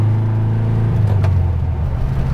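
Naturally aspirated Volkswagen Fusca 2300 street car engine holding a loud, steady high rev, a dense close rumble with a brief rise midway and no talk.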